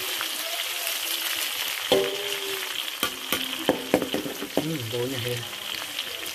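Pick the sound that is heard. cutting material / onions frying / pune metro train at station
onions frying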